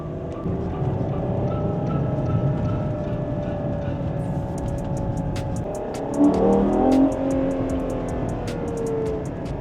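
A Ferrari Purosangue engine runs with a steady rumble that swells into a rev around the middle, heard from close by with no talk over it.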